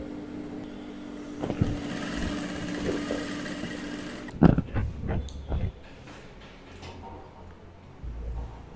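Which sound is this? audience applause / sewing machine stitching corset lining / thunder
sewing machine stitching corset lining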